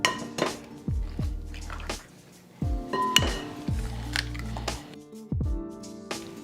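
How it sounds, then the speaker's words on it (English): Eggs cracked against a bowl for blooming onion wet batter, several sharp knocks and clinks of shell on a pot or dish, each followed by a brief ringing, spaced out with quiet gaps and no talking. "I wanna go ahead and just crack my eggs."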